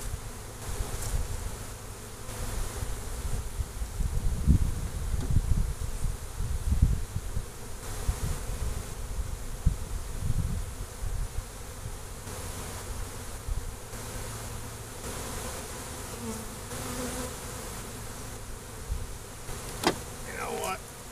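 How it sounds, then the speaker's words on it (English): A swarm of bees buzzes close by, a dense, wavering drone of many insects that swells and fades as they fly near the microphone, with faint background noise and no talking. "There's a lot of bees."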